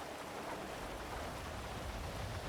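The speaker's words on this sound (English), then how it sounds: "I know you hate the rain, but Jesus Christ. It's disgusting." Steady rain pours in the GTA NoPixel role-play game, a continuous broadband hiss that stays even and fairly loud across the whole moment with no breaks.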